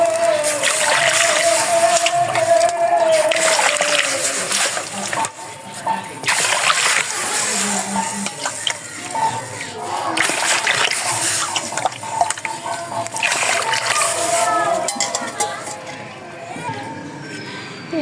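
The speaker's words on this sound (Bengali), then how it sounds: "ডালটা ধুয়ে নিলাম" Lentils (dal) being washed in water, with continuous close splashing and sloshing in repeated surges and a voice talking over it.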